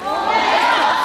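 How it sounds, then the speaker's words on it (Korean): A crowd applauds and cheers loudly for the writer, composer and director of the musical Swag Age coming onstage at an outdoor event at Marronnier Park, a steady roar of clapping and shouts throughout. "큰 박수 부탁드리겠습니다."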